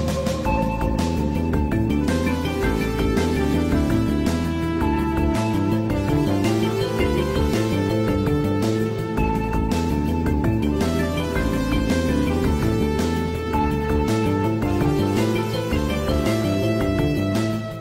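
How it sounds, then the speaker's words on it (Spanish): Underwater stage music from Mega Man X5's Duff McWhalen level plays loud and steady, with layered synth melodies over a pulsing bass and a sonar-like beep set between the melodic lines. "Parece ser que el beep de un sonar está en medio de una conversación entre melodías."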